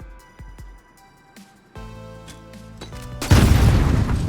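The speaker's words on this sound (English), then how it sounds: "So when it landed at its target, it already exploded." A cooked grenade goes off in Call of Duty, ending a few quiet clicks and clatters with a sudden loud, broadband blast that rumbles on to the end; no speech.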